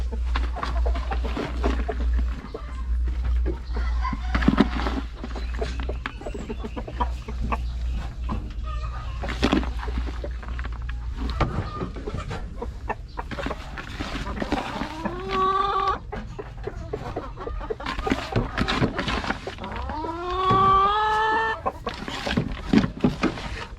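Chickens clucking and chirping close by in a farm pen with young Rhode Island stock, with repeated short calls, a louder rising squawk series near the end, and a low steady hum underneath.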